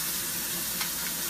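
Pork tenderloin searing in a hot pan, a dense continuous sizzle at close range with one faint clink partway through, no voices.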